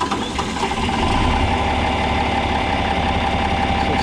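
A John Deere 4010 tractor with a brand new six-cylinder engine idles close by, a loud, steady, rapid chugging with even mechanical knocking and no voices over it.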